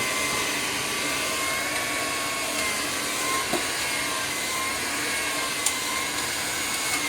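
A hair dryer runs steadily while drying hair during 80s-style styling, a constant close whirring blow that holds level throughout with no talking.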